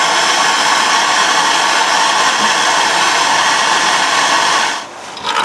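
A heat gun blows hot air onto the knot in the starter rope of a 25 hp Johnson outboard, a steady loud broadband roar that holds without a break and cuts off near the end.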